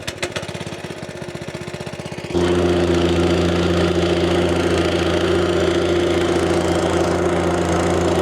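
A small engine sputters through a few rough pulling turns, then catches and settles into a loud, steady, buzzing idle close by.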